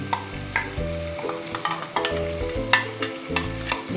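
Mustard seeds and whole cumin crackle in hot oil in a pan for a Bengali koi fish dish, a close sizzle broken by repeated scraping and clinking stirring strokes.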